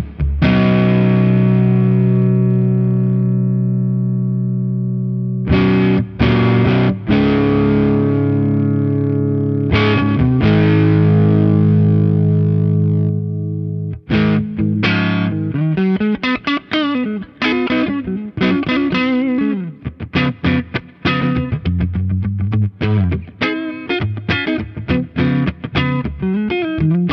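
An electric guitar plays through a distortion preset on a Mooer Preamp Live: loud, saturated sustained chords ring out first, then give way to fast, choppy riffing with abrupt stops, with no talking over it.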